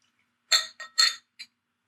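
Empty drinking glasses handled and clinked together before rum is poured, giving three quick bright clinks followed by a softer fourth, close and alone against silence.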